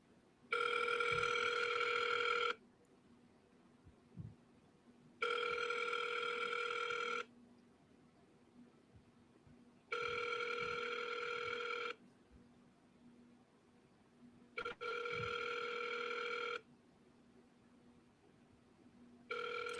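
A telephone rings unanswered, its electronic ring repeating in evenly spaced two-second bursts separated by quiet pauses, four full rings and the start of a fifth.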